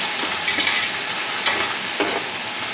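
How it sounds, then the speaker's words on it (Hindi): Ginger garlic paste fries in a pan with browned onions for a mutton yakhni pulao, giving a steady, dense sizzle with a few soft stirring scrapes and no voices. "अब हम इसमें 2 टेबलस्पून अदरक लहसुन का पेस्ट डालेंगे और इसे अच्छी तरह से भून लेंगे।"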